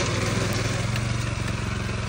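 A Rico Italy 9 HP rotary tiller engine runs steadily while tilling soil, a loud, close, continuous chugging drone with a rapid pulsing beat and no talking.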